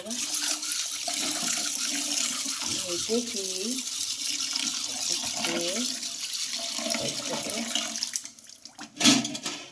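Raw chicken is washed under running water, a steady tap stream splashing into a sink throughout, with someone talking over it and a louder splash near the end.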